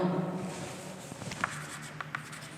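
Writing on a board during a discrete mathematics lecture, faint close scratching and short tapping strokes in an irregular rhythm, low and quiet under a soft room hum.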